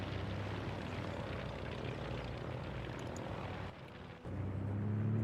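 A propeller aircraft in Arma 3 roars steadily on a runway during takeoff, its engine drone loud and continuous with a brief dip near the end before swelling again.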